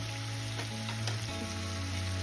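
Sliced potatoes frying in oil in a pan for aloo posto, a steady close sizzle with a few stirring scrapes and no talking.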